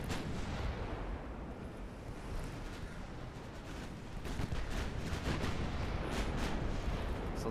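Naval artillery booms from warships in the game Ultimate Admiral Dreadnoughts, dense heavy blasts over a constant rush of wind and sea, growing busier and louder toward the end.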